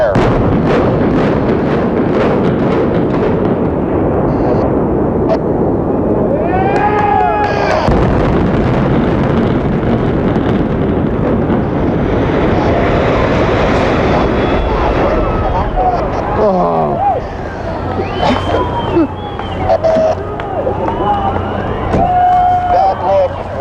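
The Las Vegas Sands hotel is brought down by building implosion in 1996: rapid charges crackle and boom, then a long, loud roar and rumble of collapse continues with sirens and distant voices mixed in.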